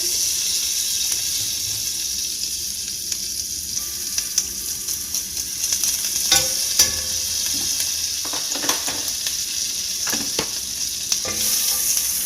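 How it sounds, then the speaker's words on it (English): A clove of garlic sizzling in melted butter in a pan, a loud steady frying hiss with occasional utensil clicks and scrapes, close and continuous, no talking. "we're going to add a clove of garlic to our melted butter"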